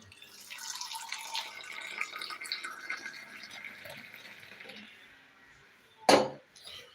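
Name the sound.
tea being poured into a glass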